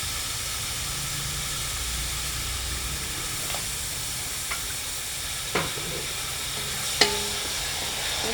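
A pot of balensyana stew, a Filipino dish with bay leaves and fish sauce added, simmers and sizzles with a constant steamy hiss, broken by a few soft clinks and stirring knocks, close with no talk.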